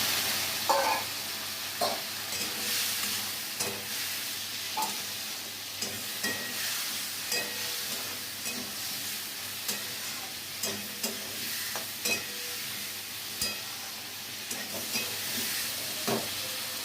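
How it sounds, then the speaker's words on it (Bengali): Fried potatoes are stirred into a tomato spice masala for a vegetarian aloo dum, with regular spatula scrapes and taps over a soft, steady sizzle. "এবার ভাজা আলুগুলো আমি এর মধ্যে দিয়ে কিছুটা কষিয়ে নেবো।"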